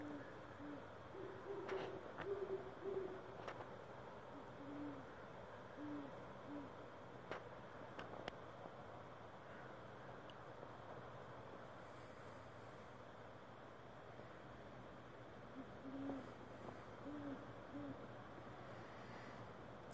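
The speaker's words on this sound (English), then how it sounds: "there's a couple of owls in the patch of woods next to me." Faint owls hoot in the distance, a few short calls in small clusters separated by long pauses, over a soft wash of wind.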